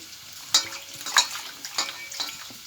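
Dried fish (shutki) going into hot oil in a wok, with a few sharp stirring and sizzling bursts spaced about half a second apart over a soft background hiss.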